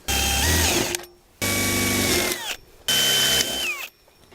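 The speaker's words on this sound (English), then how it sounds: "So the next thing I'm going to do is drill 3 holes on the top" A power drill whirs in three separate bursts, each spinning up loudly, biting into plastic, then winding down, with brief quiet gaps between.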